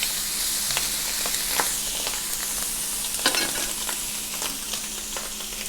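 Bacon frying in a pan sizzles with a close, steady crackle and hiss throughout, dotted with sharper pops and spits, and no one talks over it.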